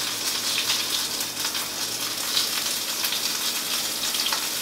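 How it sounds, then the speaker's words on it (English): Meat sautéing in a hot pan, a steady close sizzle with fine crackling spatter running evenly throughout, no voices over it. "So we're just about done sauteing it"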